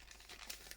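Paper being torn off while making a junk journal butterfly craft, a short close crinkling, ripping rustle of under a second, steady and fairly quiet with no voice.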